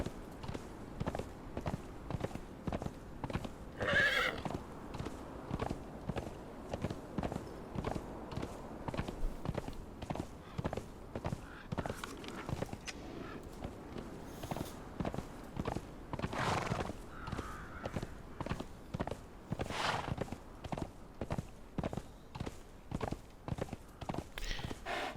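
A horse in Conan Exiles clip-clops in a steady, even rhythm of hoofbeats at moderate loudness, broken by an occasional brief whinny.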